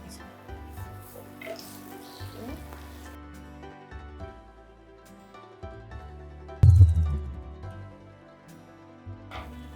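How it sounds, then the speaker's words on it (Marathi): Spiced masala fries in hot oil before chicken goes in for a kharda chicken dish. A soft, steady sizzle runs throughout, broken once by a sharp clatter of a utensil. "तेलात आता हे चांगलं परतून घेतलंय आपण"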